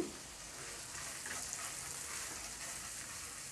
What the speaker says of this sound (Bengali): অল্প জালে আমি মশলাটাকে কষিয়ে নিয়েছি